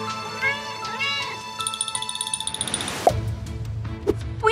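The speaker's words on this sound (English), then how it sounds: "They're little cats" Little cats meow in a series of high, wavering calls, close and fairly clear, mixed with squeaky electronic tones and sharp clicks in the background.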